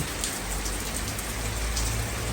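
Heavy rain pours at night in London, a steady, dense hiss of drops on surfaces with no breaks and no voices.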